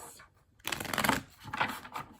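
Tarot cards are shuffled by hand in two short riffling bursts after a moment of quiet, soft and close-up with no speech.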